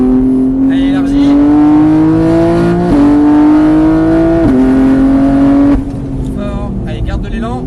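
Race car engine pulling hard on a circuit at Mireval, a loud steady drone rising in pitch through the gears with brief lifts between shifts, while a coach talks over it giving driving instructions.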